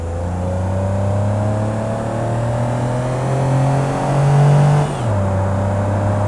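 A 3-cylinder 1.2-litre car engine in BeamNG.drive revs steadily, its rising harmonics swelling before a brief drop and settling back to a loud, even drone.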